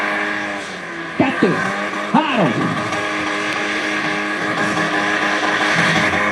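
A car engine revs hard at a driving skill competition, a loud steady roar with two short pitch-swooping bursts early on, close by, while people talk and shout over it.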